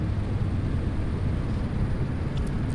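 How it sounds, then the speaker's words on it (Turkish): Helicopter flying overhead in the Fernbus Simulator bus-driving game, heard as a steady, loud low rumble and rotor drone that holds evenly throughout without talk. "Evet, helikopter sesi geliyor dümdüz."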